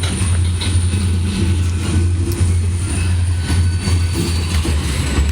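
A long freight train hauling many tank cars rumbles steadily at Miller station in Ohio, a loud continuous low roar of rolling wagons and wheels, close by and with no talking.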